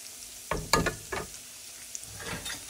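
Garlic fries in a hot pan in short sizzling bursts and stirring scrapes, close and intermittent over a low, quiet background.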